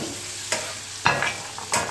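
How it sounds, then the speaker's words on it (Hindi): Onion frying in a pan for a brinjal dish, a close, steady sizzle broken by three scraping stirs of a spatula, no voices. "ये मैं प्याज को फ्राई कर लेती हूँ थोड़ा।"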